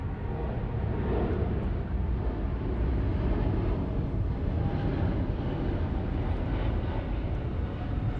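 A jet airliner taxis at Los Angeles International Airport toward the cargo terminal, a steady low engine roar that holds at an even level throughout with no voices over it.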